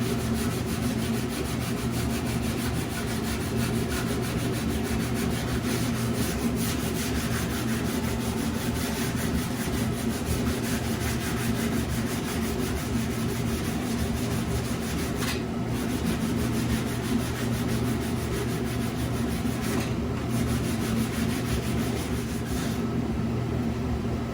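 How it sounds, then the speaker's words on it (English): Fiberglass filler being sanded off wood during bodywork on a 1965 Dodge Dart front panel, a continuous close abrasive rubbing and scratching, steady and moderately loud with no talk. "I'm not sanding anything on the edge, it's just on that wood right now that I'm hitting."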